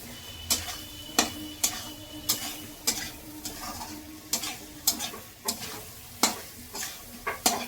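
Spices, turmeric and watery tomatoes sauté in a pan with a soft continuous sizzle under repeated, fairly regular spatula knocks against the metal, about one scrape every half second to second, close and with no talk.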